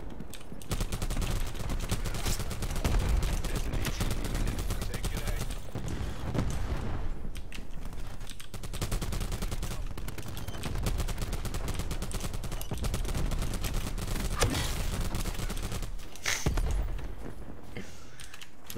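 Video-game gunfire rattles almost without pause: dense, rapid automatic bursts layered over each other, loud and continuous, with only brief dips in the clatter.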